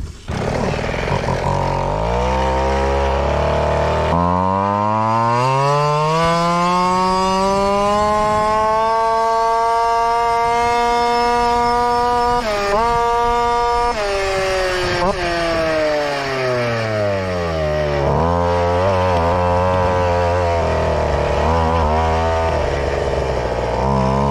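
A small mini bike engine, newly fitted with a new carburetor, screams loudly through a top speed run, rising and falling in pitch as it accelerates, holds and eases off, close and continuous throughout.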